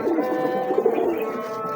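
Big breeder pigeons coo softly and continuously, layered throaty calls from several birds close by with no voices.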